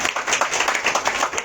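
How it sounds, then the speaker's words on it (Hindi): A church congregation claps for a prize winner during a Sunday worship service, a brief burst of quick, rhythmic hand claps from a small crowd heard fairly close. "ताली"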